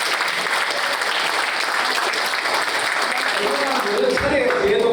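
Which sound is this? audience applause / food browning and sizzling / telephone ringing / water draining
audience applause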